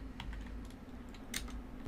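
Quick typing on a computer keyboard during a Windows 10 run command, a short burst of light, close key clicks over a steady low hum.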